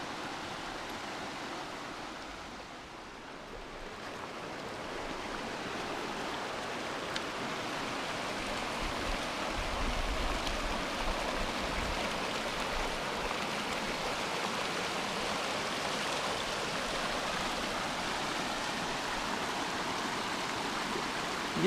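Steady rushing water from a woodland creek near a campsite, a constant broadband wash that dips slightly for a moment early on, then continues evenly and loudly to the end.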